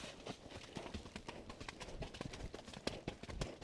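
Horse galloping along a path toward a pasture, a steady rhythmic drumming of hoofbeats with faint creaks, close and moderately loud, no talking.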